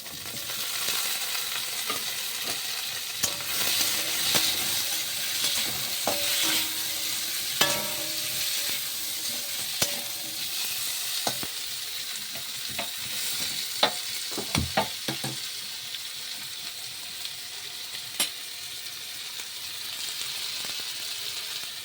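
Potatoes sizzle and fry in a pan while being stirred, with steady frying hiss and scattered clicks and scrapes of a utensil against the pan, alone with no talk.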